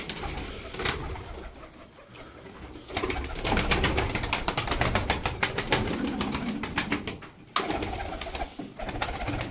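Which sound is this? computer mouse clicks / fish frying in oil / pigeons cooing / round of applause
pigeons cooing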